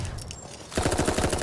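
Dolls Nest video game weapon handling: after a quiet stretch, a rapid run of clicking, clattering mechanical beats, close and fairly loud, like a gun being reloaded.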